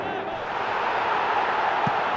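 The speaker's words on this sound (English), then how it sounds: "you can feel and hear how the crowd are reacting to all of this." A stadium crowd roars steadily in the Winning Eleven 2018 football game, a dense, continuous wash of distant cheering with one faint short thud near the end.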